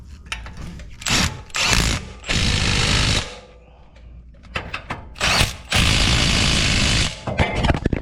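A power tool runs in repeated bursts, driving caliper bracket bolts on a Nissan Armada during a front brake pad and rotor job, with ratcheting whirs separated by short pauses, close up.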